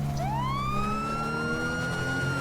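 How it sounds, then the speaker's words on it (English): A police car siren in the LSPDFR police game sweeps upward and then holds a steady loud wail, with a low engine drone underneath and no one talking. "why don't you use the siren officer UFO1?"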